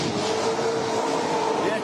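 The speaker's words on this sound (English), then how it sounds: "It's engine noise." Engine noise from a car doing an Australian-style burnout, a steady loud roar with a sustained tone throughout, mixed with crowd voices.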